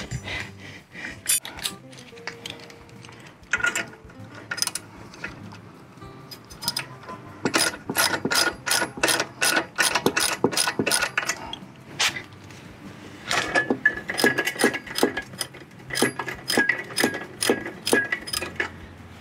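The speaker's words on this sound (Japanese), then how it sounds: "ソケットレンチ" Socket wrench ratcheting on the front sprocket nut of a Suzuki V-Strom 250 during a sprocket change, heard as two close bursts of rapid metallic clicks between clinks and handling noises in a quiet workshop.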